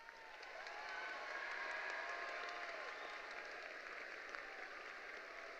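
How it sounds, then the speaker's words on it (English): Graduating seniors at Western Branch High School's 2025 graduation ceremony stand and applaud their families: a large crowd's sustained round of clapping that swells in the first second and holds steady and dense throughout. "stand to your feet and give your family a big round of applause"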